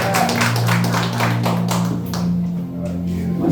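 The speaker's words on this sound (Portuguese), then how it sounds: "Você pode assentar aplaudindo o nome do Senhor?" A church congregation claps during a worship service, several bursts of applause sounding loud and close over a sustained low tone, with no talking.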